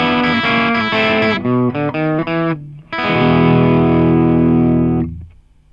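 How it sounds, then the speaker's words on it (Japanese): Electric guitar played through the Ampire amp simulator in Studio One with light distortion: a few sustained chords, then short choppy strums, then one long ringing chord that fades out, loud and close. "このプレーンな音にケンパーで使用した時と同じタイプのアンプを歪みを少なくしてかけてみたいと思います。"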